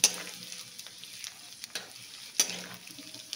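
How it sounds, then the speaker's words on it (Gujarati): Edible gum (gond) frying in hot oil, a continuous close sizzle punctuated by several sharp stirring scrapes and clinks. "થોડો થોડો ગુંદ નાખતા જવાનું છે અને આપણે એને સરસ તળી લેવાનો છે"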